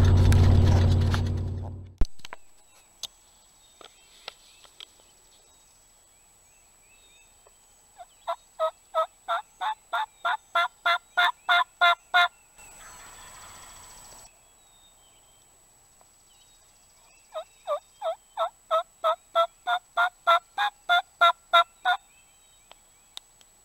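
Wild turkey gobbler in spring on a rural property, two bursts of rapid rhythmic clucking and gobbling notes, each about four seconds long, clear and fairly close against quiet morning air after an initial thump of handling noise.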